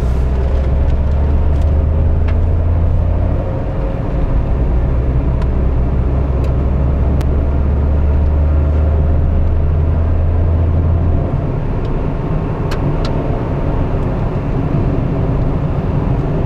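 A 2025 Tata Altroz facelift with a petrol engine and DCT automatic gearbox is driven, heard from inside the cabin as a steady low engine drone with road rumble. The level stays constant and fairly loud throughout, with occasional faint clicks.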